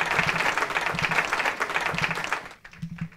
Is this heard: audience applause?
yes